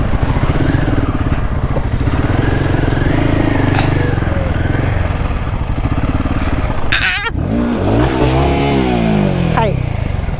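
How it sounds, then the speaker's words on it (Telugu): Motorcycle engines idle and rev amid a busy crowd of bikes at Nandi Hills near Bangalore, Karnataka, loud and continuous with voices mixed in and a rising rev toward the end. "చాలా రష్ ఉంది, చాలా మంది బైక్స్ ఉన్నాయి"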